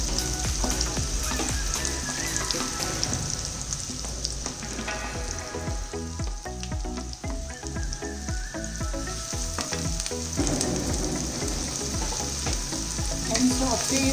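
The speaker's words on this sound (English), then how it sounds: "Now the oil has become hot. Let us put this onion. This is 3 medium-sized onions." Three medium-sized chopped onions sizzling steadily in hot oil for pav bhaji, a continuous loud crackling fry with occasional stirring, close and alone with no talk.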